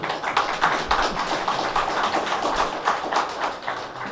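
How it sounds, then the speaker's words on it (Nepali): A crowd at a village council budget meeting applauds with steady, dense clapping that continues throughout, fairly close and even in loudness. "सबैले ताली बजाउनु"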